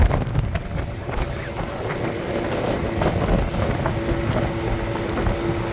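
A boat speeding across a lake, its engine drone and rushing water buried under heavy, continuous wind buffeting, loud and close throughout.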